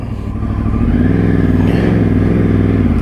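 A 2013 Yamaha R1 sport motorcycle engine runs loud and close, a steady idle-to-rev drone with dense rumbling harmonics that swells after the first half second and holds.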